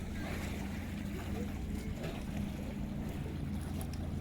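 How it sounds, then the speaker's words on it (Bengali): Clear water washing and lapping nearby, a steady soft rush mixed with wind noise on the microphone. "কি সুন্দর শব্দ পানির শব্দ এটা"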